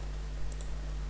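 Two quick, faint mouse clicks sound in close succession while confirming OK in Solidworks CAD software, set against a low steady electrical hum.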